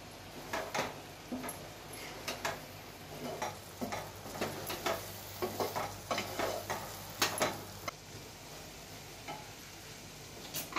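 Cardamom powder and freshly grated nutmeg are stirred into a mixture with a spoon, making faint, irregular light scrapes and soft taps against the pot, repeated steadily throughout.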